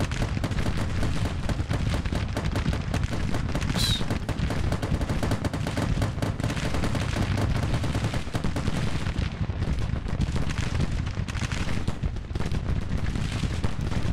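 Continuous gunfire from a Grand Tactician Civil War strategy battle, a dense unbroken crackle of musket and rifle volleys with heavy low rumble, loud and steady with no voices.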